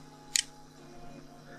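A single sharp mouse click on the Windows Start menu, short and close, over a faint steady hum.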